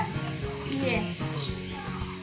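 Dried fish fries in a generous amount of oil, giving off a steady, dense sizzle with soft bubbling and faint stirring. The crackling stays close and constant throughout.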